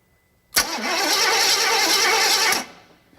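A starter motor whirs loudly as it cranks an engine for about two seconds, a steady wavering whine that stops abruptly, close by.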